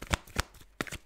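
Tarot cards shuffled close to a microphone, a quick run of crisp, loud riffling bursts in an uneven rhythm, alone without talk.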